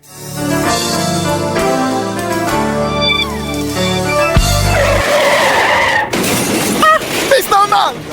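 A car in a radio drama sound effect skids with long screeching tyres and a roaring engine, then crashes into a loud burst of shattering glass and clattering debris, close and dominant.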